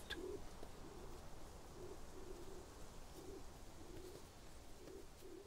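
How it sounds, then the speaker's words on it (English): Bolle's pigeon in a Canary Islands forest gives soft, low cooing phrases that repeat every second or so, faint against a steady hiss of forest ambience, with no voices present. "Bolles pigeons are the descendants of European wood pigeons that passed through here long ago."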